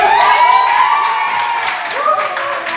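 Students clapping together in a high-school classroom during a group quiz game, a loud, close burst of hands amid excited young voices and shouts, with tonal chatter running throughout.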